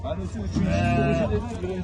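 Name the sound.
sheep bleating at livestock market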